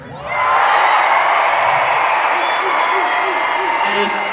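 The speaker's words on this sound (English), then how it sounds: "Can all the boys cheer?" Boys in a crowd at a youth rally in Ottawa break into cheering after a brief quiet start, a loud, sustained roar of yells and whoops that holds steady to the end.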